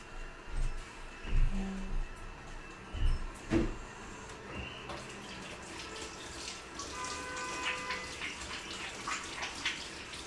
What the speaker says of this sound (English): I'm gonna just wash my hands real quick.